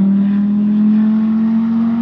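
An Audi R8 engine revs hard under acceleration, a loud, close, steady drone whose pitch rises slightly across a brief burst.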